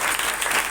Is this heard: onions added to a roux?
no